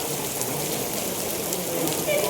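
Rain falls steadily at Jog Falls in Karnataka, a dense, even patter that stays close and continuous throughout.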